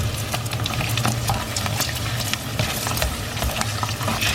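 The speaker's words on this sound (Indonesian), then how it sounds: "Mari kita goreng." Colourful Indonesian kerupuk crackers fry in hot oil, a dense steady sizzle and crackle with scattered pops and faint stirring sounds throughout.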